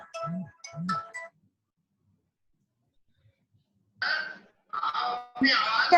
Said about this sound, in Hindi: बीच में फोन आ रहा है